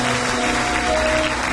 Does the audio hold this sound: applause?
yes